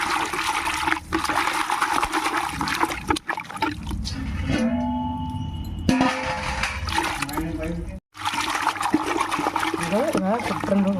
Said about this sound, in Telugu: ఇదిగో వాటర్లో శుభ్రంగా కడుక్కుందాం